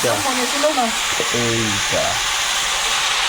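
Vegetables with spinach frying and being stirred in a pan, a steady sizzle with stirring that runs throughout. Voices talk over the frying for the first couple of seconds.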